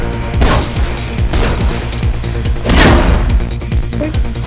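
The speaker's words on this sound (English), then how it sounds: "I can hear gunshots" Rapid bursts of gunfire in the video game Mirror's Edge, with booming low thumps, loud and continuous, like a busy firefight with scattered impacts throughout.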